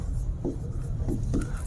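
Chalk scratches on a blackboard during a Hindi grammar lesson, three short scraping strokes in a row, close and moderately loud over a low room hum.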